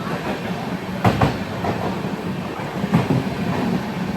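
Train at a busy railway station platform, a continuous low rumble with a couple of heavier thumping surges, like wheels passing over rail joints, under a broad wash of station noise.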